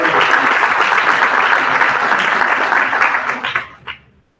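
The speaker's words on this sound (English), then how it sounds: "I would like to ask everybody to give this room a round of applause." A room of meeting attendees claps in a steady, dense round of applause that holds for about three seconds, then thins into a few scattered claps and stops.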